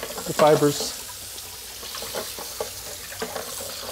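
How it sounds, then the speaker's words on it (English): Water runs from a tap as juicer press racks are rinsed after pressing celery on a Goodnature Hummingbird prototype, a steady splashing stream with brief louder gushes near the start and voices talking over it. "Rinsing out the press racks."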